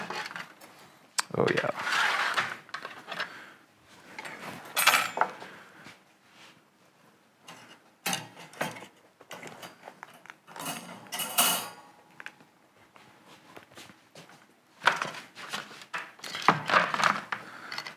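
Metal clinks, scrapes and creaks come in irregular bursts as food is pulled out of a Char-Broil Big Easy oil-less fryer, close up, with a brief spoken word.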